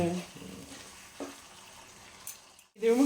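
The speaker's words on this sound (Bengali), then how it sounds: "দইটা দিয়ে তোমাকে একটু ভালো করে ইয়ে করতে হবে কষতে হবে কষতে হবে" Paneer masala with yogurt being sautéed in a pan, Dhaba style, giving a soft continuous sizzle with occasional stirring scrapes, fairly quiet, ending in a brief louder clatter.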